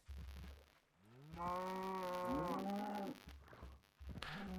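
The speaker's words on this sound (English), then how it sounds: "Why are there only 2 baby cows in here?" Cows in the Minecraft video game let out a couple of long, loud moos, one drawn-out call followed by a second that overlaps it, with short pauses and a few quieter grunts at either end.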